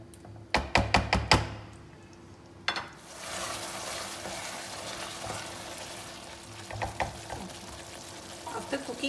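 Sardines frying with curry powder in a pan, a steady sizzle following a quick run of sharp utensil knocks, with more scattered taps and stirring clatter later on.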